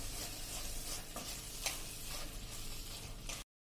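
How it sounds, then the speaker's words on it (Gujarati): Grated paneer being stirred with masala in a pan for Surat-style cheese paneer ghotala, a soft sizzle under a few scraping strokes of the spoon, quiet and close, cutting off abruptly at the end. "આ જે ખમણેલું પનીર છે એ એડ કરી દેશું. અને એને આપણે સરખું મિક્સ કરી લેશું."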